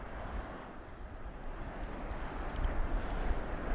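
Ocean waves wash and surge continuously with wind rushing over them, swelling slightly toward the end.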